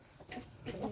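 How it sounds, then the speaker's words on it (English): Chickens and a rooster at bedtime give short, faint clucks, close by and quiet, with no talk. "5 white and black chickens, including the rooster."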